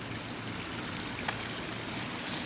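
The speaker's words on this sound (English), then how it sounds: "Little water feature in the middle." Water from a small fountain in the middle of a park in Celje, Slovenia, flows with a steady broadband rush that stays even and continuous throughout, with no voices over it.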